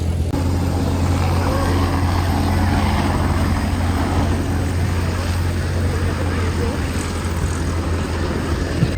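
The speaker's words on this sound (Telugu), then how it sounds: "నాయిస్ చాలా ఎక్కువ ఉంటుంది బట్ కాంట్ హెల్ప్, ఎందుకంటే ఫ్లైట్స్ అన్ని ఫ్లై అవుతున్నాయి కదా." At an airport, aircraft produce a loud, constant engine drone and rumble that fills the whole span without letting up, a broad roar from planes taking off and flying nearby.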